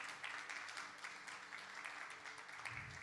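A church congregation applauds during a Spanish-language morning service, with dense, fairly faint clapping that carries on steadily throughout and no voices heard.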